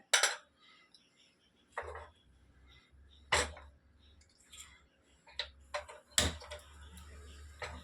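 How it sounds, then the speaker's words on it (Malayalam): A gas stove burner being lit in a home kitchen beneath a pan of first-press coconut milk: several sharp, close igniter clicks spaced a second or more apart, followed by a low, steady rumble of flame. "ഇനി നമുക്ക് സ്റ്റവ് ഒന്ന് കത്തിക്കാം"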